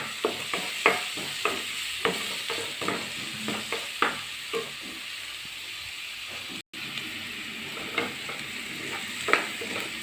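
Chopped garlic and onion, salted, fry in a pan under constant stirring, with a soft steady sizzle broken by regular spatula scrapes and taps against the pan, close and moderately quiet.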